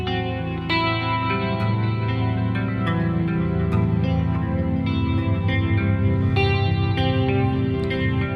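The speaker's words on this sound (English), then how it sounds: "But this Valhalla Supermassive reverb" An instrument is played through a Valhalla Supermassive reverb effect, producing sustained, layered tones with long washy tails and echoing repeats that blur one note into the next.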